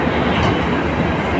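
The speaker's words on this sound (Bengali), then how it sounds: "সেই ট্রেনটি ছাড়লো" The 22897 Digha Kandari Express pulls out of Howrah station with a loud, steady rumble and wheel noise filling the whole stretch, no voices.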